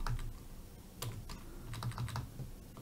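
Rapid clicking of computer keyboard keys while setting key bindings for game controllers, quick irregular bursts of taps at close range with short pauses between them.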